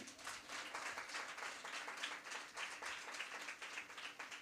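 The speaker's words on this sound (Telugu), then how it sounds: "మేల్కొన్న వారు గట్టిగా చప్పట్లు కొట్టండి." A church congregation claps loudly together, a dense, sustained burst of many hands that fills the hall evenly, with no one speaking over it.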